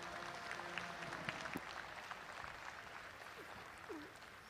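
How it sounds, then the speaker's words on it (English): An audience at a Brown Swiss junior cattle show claps together, a steady patter of applause from a modest crowd that tapers slightly toward the end. "Let's give them a big round of applause and show us our appreciation."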